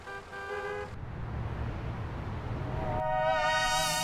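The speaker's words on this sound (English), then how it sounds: "one of the most common things about Lagos is traffic." Car horns honk over the steady rumble of congested city traffic in Lagos, Nigeria, with a short horn blast at the start and a louder, sustained honk near the end over constant engine noise.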